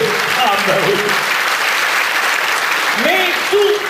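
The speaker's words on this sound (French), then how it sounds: "on applaudit très fort" A concert audience in Bergerac claps loudly in a dense, sustained round of applause, with a voice speaking over it at the start and near the end.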